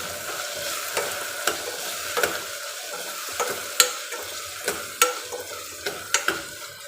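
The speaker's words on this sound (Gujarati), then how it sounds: "ગવાર બટાકાને મસાલા સાથે મિક્સ કરી લઈશું" Cluster beans and potatoes with spices are stirred in a pressure cooker, a soft sizzle running beneath a series of sharp metal spoon knocks against the pot.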